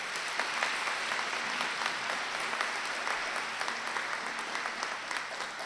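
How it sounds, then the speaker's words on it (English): An audience applauds graduates at an adult education commencement ceremony, with sustained, fairly distant clapping from a hall full of people and a steady patter of many hands throughout. "give them some applause right now"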